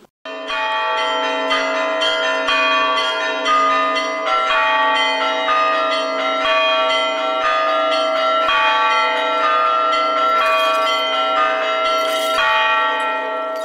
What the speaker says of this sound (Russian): первыми звуками колоколов, которые не звонили весь Великий пост